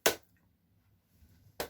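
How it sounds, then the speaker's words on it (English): Two sharp hand claps, close and crisp, separated by roughly a second and a half of near silence. "I'm clapping. This is what I do."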